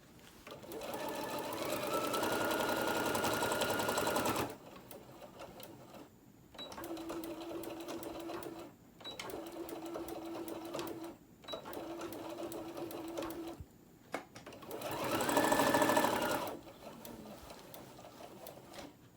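Sewing machine stitching around a tote bag, with a long loud run, several shorter bursts separated by pauses, and a final run, heard up close.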